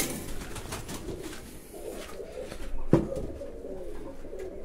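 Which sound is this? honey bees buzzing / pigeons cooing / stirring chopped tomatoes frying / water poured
pigeons cooing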